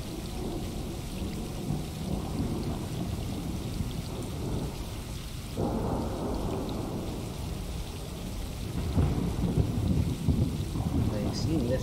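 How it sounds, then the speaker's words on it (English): Steady rain pours in the video game Stray, a continuous hiss with low thunder rumbling underneath, swelling louder near the middle and again toward the end. "sat inside in the dry while it's tipping with rain outside"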